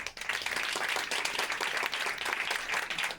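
Steady, dense clapping from a comedy-show audience in Marseille, loud and continuous with no voices on top, answering a call for a show of hands by applause.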